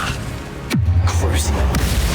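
A Bombarda spell explosion in Hogwarts Legacy, a swooping cast followed by a deep, sustained booming rumble, with some vocal effort heard around it.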